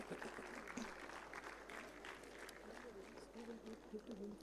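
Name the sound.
audience applause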